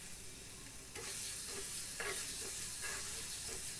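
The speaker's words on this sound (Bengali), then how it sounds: "এইবার একটু নাড়ানাড়ি হচ্ছে," Soybean mince fries in mustard oil in a wok and is stirred with a spatula, a steady close sizzle with a few distinct scraping strokes of stirring.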